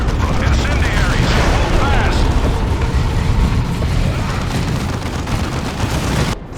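Incendiary explosions and gunfire in the Warhammer 40K Dawn of War II Chaos Rising battle, a dense continuous roar of blasts and rumble with voices talking over it, loud throughout before a brief drop at the end.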